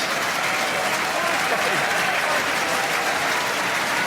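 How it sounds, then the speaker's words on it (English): A rugby crowd at an Exeter Chiefs versus Northampton Saints Premiership match gives a broad, sustained wash of applause from a large stadium audience, with commentary voices running over it throughout. "The applause is for Taioni."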